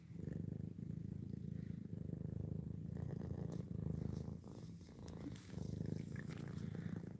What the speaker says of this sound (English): Y'all hear a purring?